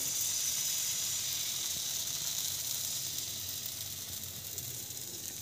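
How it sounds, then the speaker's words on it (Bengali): Batter poured into hot ghee in a frying pan gives a steady, close hiss of sizzling that holds evenly throughout, fading slightly toward the end, with no voices. "ব্যাটারটা দিয়ে দিচ্ছি।"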